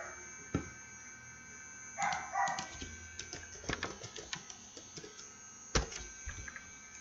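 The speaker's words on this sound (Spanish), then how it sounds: "sale mucho el sonido del perrito, pero bueno, el perro del vecino" A neighbor's dog barks in short separate bursts against a quiet indoor background, with a few louder barks standing out and no voices.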